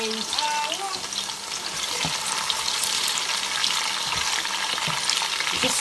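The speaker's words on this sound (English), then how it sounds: "just wait for the onion to cook for a bit" Onions sizzling steadily in a pan for a Ghanaian corned beef stew, with occasional scraping stirs, a close, continuous frying hiss throughout and no talking.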